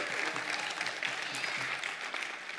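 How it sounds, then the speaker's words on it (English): A church congregation applauds its lead pastors during a Sunday service, a steady, dense wash of many hands clapping together, sustained and fairly loud throughout with no talk over it. "Give them a hand clap."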